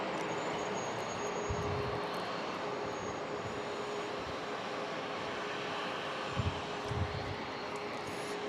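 Gulfstream business jet inbound at San Diego International, a faint, distant steady engine hum with a thin whine, a few soft thumps near the end.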